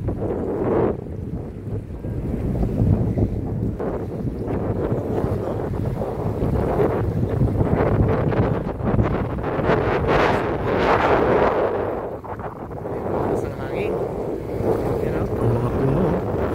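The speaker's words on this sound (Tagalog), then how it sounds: "Sobrang lakas ng hangin talaga, oh" Strong gusting wind buffets the microphone in a constant roar by a lake, with choppy water sloshing underneath and a voice faintly heard through the noise.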